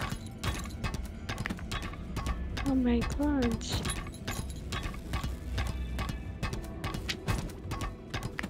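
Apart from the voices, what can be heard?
horse galloping in the video game Lost Ark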